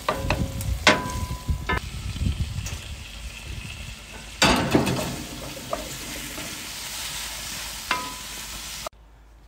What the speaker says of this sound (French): L'oignon et la tomate sont en train de compoter.